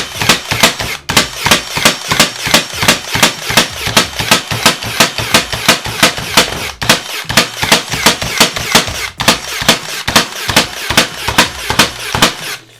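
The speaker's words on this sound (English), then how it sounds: "Shoots really smooth, really soft, not too loud, really light when it comes to shooting the nails as well." An 18 gauge brad nail gun fires nails in multi-shot mode, producing a fast, steady stream of sharp pneumatic snaps and thuds at close range with only brief pauses.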